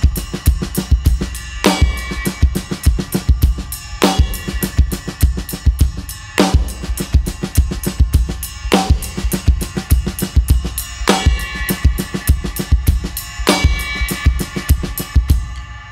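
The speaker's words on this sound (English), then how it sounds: "The verse groove on its own, without any of the hi-hat patterns at all," A drum kit plays a steady verse groove with no hi-hat patterns, so only kick, snare and cymbal hits are heard. Loud, close and continuous, with strong crashes falling roughly every two and a half seconds.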